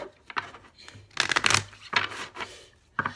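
Tarot cards are shuffled in several quick riffling bursts with short pauses between them, close and crisp.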